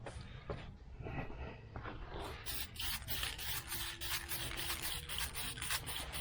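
Aerosol spray paint can hissing in steady bursts as paint goes onto the mirror of a 1976 El Camino, with a weak, sputtering spray; close and continuous, no talk.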